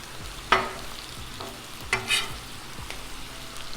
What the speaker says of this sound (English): All right, bacon's cooking up good.